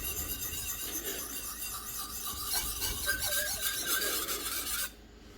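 A knife blade rasps steadily against a sharpening stone on the second side of its bevel at a raised angle, a close, continuous scraping with a few squealing tones before it stops abruptly near the end.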